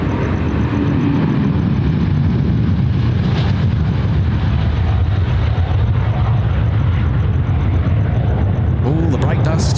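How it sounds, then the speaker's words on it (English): A Sichuan Airlines Airbus A350-900 bound for Chengdu departs Sydney Airport, its jet roar broad, steady and loud throughout, with voices talking underneath. "Oh, Szechuan. Off to Chengdu. The A350-9er."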